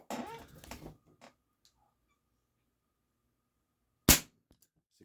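A Crosman 1377 air pistol fires once with a single sharp, close crack. Brief talking comes first, then a long quiet stretch before the shot.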